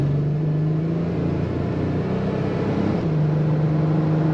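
A 1991 GMC Syclone turbocharged truck with an automatic transmission accelerates hard under full throttle, producing a loud, continuous engine roar with a steady droning tone that climbs and then settles, heard from inside the cab.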